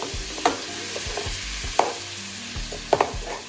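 Curry beef ribs stirred in a hot pot, sizzling steadily with a spoon scraping and clacking against the pot in a few sharp strokes, close and fairly loud, no voices.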